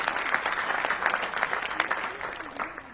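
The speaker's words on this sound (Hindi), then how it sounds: "देखिए आपने ताली बजाई भावुकता में आकर" An audience in a hall at a Hindi comedy poetry event claps steadily, dense rapid applause filling the whole stretch before tapering slightly at the end.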